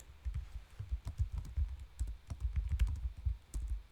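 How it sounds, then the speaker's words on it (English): Clattering keystrokes on a worn, damaged computer keyboard, a quick irregular run of close, sharp clicks and thuds, with no one speaking. "I'm going to try to type to them on my jacked up keyboard here."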